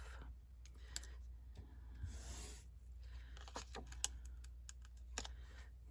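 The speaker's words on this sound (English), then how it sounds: "I'm going to peel all these off." Adhesive backings are peeled off paper craft pieces at a tabletop, giving soft close scratchy peels and small crinkles at a quiet level in a still room.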